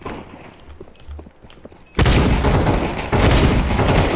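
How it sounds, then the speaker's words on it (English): Gunfire from a video game shotgun, a loud dense burst of shots kicking in suddenly halfway through after a quieter stretch, sustained and close. "My shotgun's doing nothing."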